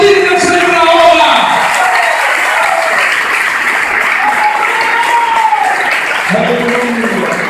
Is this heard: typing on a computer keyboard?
no